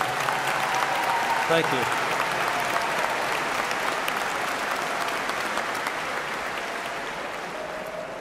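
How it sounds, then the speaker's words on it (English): Sustained, dense applause from a commencement ceremony crowd for student musicians, steady and fairly loud throughout and tapering slightly toward the end, with a brief spoken thanks heard over it. "how about a big round of applause for our student musicians?"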